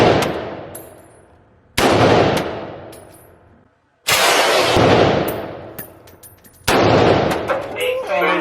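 AR-10 rifle fired at an outdoor shooting range, four loud, sharp blasts spaced a couple of seconds apart, each ringing out and echoing as it decays, with voices in the background.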